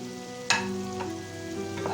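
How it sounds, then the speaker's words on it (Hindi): A kilogram of chicken with yogurt fries in a pan over a high flame, giving a continuous crackling sizzle, with a sharp utensil clank near the start and softer stirring knocks afterward. "हाई फ्लेम पे 4 से 5 मिनट तक जो है वो फ्राई करेंगे।"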